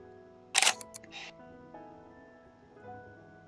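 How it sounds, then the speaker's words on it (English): A phone camera shutter click sounds near a bed, one sharp burst followed by a few quick softer clicks, then a faint breathy gasp against quiet room tone. "The camera shutter wakes Artem up, who responds with soft gasp."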